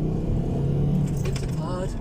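A Volvo S60 saloon pulls hard in second gear, its engine note climbing loud and close as the car accelerates.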